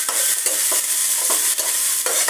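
Fourteen kinds of leafy greens sizzle in a frying pan while being stirred, loud continuous frying hiss broken by regular scraping strokes of the spoon, no talking.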